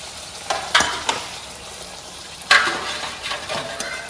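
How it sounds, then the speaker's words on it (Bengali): Luchi puffed flatbreads fry in hot oil for breakfast, a soft, steady sizzle broken by louder bursts of bubbling and spatter as the dough goes in and is turned. "লুচি ভাজা সকালে ব্রেকফাস্টে"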